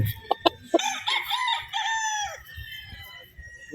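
A young Boston Gold stag rooster crows once nearby, a long drawn-out call that tails off, with a few short clucks and sharp knocks just before it.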